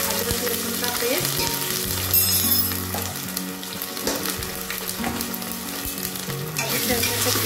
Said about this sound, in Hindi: अब मैं इसमें डाल रही हूँ 1 बड़ा चम्मच अदरक लहसुन का पेस्ट